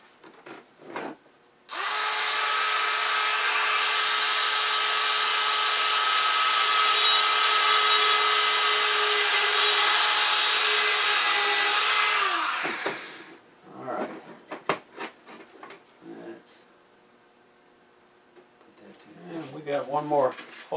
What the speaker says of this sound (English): I didn't drill holes in here, so let's drill holes in here.